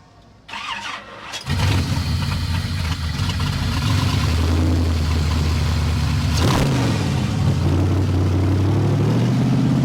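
A race car engine cranks and catches at a car show, then roars into a loud, steady rev with a brief dip and surge partway through.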